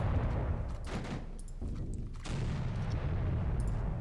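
Booming 5-inch naval deck guns fire in a Pacific naval warfare video game, a steady rumble of repeated low blasts with a few sharper reports, loud and continuous with no talking.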